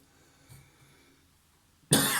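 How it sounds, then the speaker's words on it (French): A single sharp, loud cough bursts out near the end after a quiet stretch with faint shuffling. "je tousse."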